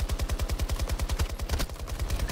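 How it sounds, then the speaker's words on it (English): Sustained automatic weapon fire in Battlefield 2042, a fast, evenly spaced stream of loud, close shots running without pause for a couple of seconds. "I'm getting shot at from that building."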